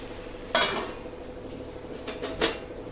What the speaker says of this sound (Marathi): मी इतक्यात भेंडीच्या भाजीवरचं झाकण काढलं